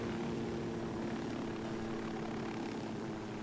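Steady loud rotor and engine drone of a helicopter in the video game Ghost Recon Wildlands, a continuous whirring roar close by with no talking.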